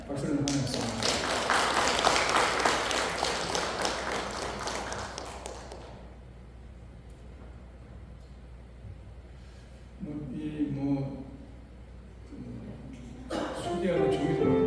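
A church congregation at Sunday worship claps to welcome a newcomer, a loud burst of many hands lasting about six seconds that then fades into quieter room sound, with brief later stirrings of noise.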